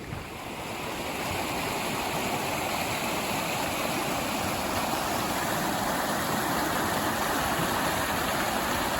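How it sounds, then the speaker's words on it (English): Continuous rushing roar of the fast-flowing rapids of Whites Creek near Reno, Nevada, loud and steady throughout with no pauses. "I'll be crossing those freezing cold rapids once again"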